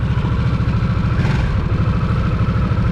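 A Harley-Davidson Nightster Special's Revolution Max V-twin engine and stock exhaust run on the road, a steady, loud mid-low throb with a slight rise in revs, and no voices.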